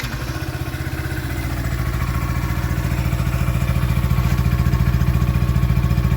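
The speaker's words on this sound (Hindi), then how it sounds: "ये इसका आइडलिंग नोट है," A Yamaha FZ S 150 motorcycle idles steadily with a low, even exhaust putter that firms up slightly partway through, loud and close with no talking.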